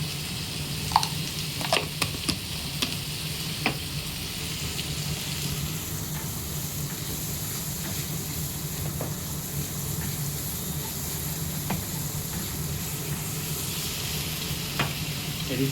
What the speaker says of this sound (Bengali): এটাকে ভালো করে নাড়াচাড়া করে নিই